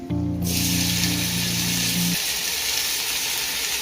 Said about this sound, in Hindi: अपने टमाटर को भी हम मजीद इसमें भूनेंगे